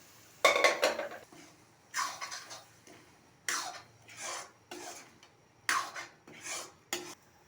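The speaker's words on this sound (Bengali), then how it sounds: "ভালো করে ডালের সাথে মশলার সাথে ভালো করে কষিয়ে নিই" Chana dal being stir-fried with cooked spices in a pan, a spoon scraping and clattering against the metal in repeated bursts with brief pauses between strokes.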